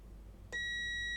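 A multimeter gives a single sudden steady continuity-test beep while probing a Toshiba Satellite P850 laptop board, a clean tone that holds over faint background hum.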